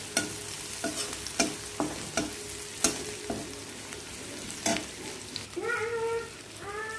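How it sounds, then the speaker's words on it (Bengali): Onion, garlic and chili frying in mustard oil with turmeric, stirred with a utensil: a series of sharp scraping knocks against the pan over a low sizzle, close up, then a squeaky scrape near the end, no speech. "এবার তেলটা গরম হয়ে গেলে সরষের তেলের মধ্যে ওগুলো ফোড়ন দিয়ে ওটাকে একটু ভাজা ভাজা করে একটু হলুদ দিয়ে নিলাম"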